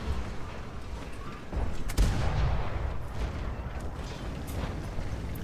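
Game gunfire: a heavy crack followed by rumbling booms and scattered shots over a steady wash of background noise.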